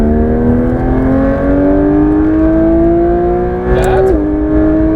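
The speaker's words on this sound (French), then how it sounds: "on accélère" A Porsche 992 GT3 RS accelerates hard on a race circuit, its engine note rising steadily in pitch as it pulls through the revs, loud and close from inside the car, with a brief dip near the end as a gear changes.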